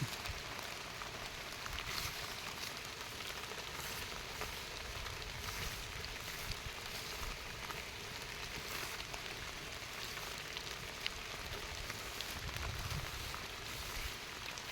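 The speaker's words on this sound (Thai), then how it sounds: "ฝนมันเริ่มจะตกแล้ว" Steady rain falls continuously, a dense hiss of drops pattering on surfaces with no voices, constant in loudness throughout.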